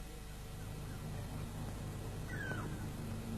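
A single short cat meow, rising and then falling, sounds fairly faint midway through over a steady low background hum.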